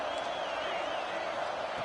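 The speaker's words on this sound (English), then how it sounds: "this home crowd is fired up and ready to make a difference today" Home crowd at a football game, a dense steady roar of cheering voices filling the stadium, continuous and moderately loud throughout with no distinct breaks.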